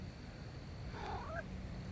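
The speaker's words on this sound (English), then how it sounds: "There's my cat." A cat gives a single short, faint meow with a rising and falling pitch over a steady background hum and room noise.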